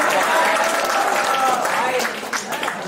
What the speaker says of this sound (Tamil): அவருக்கு பெரிய கைத்தட்டு கொடுக்கலாமே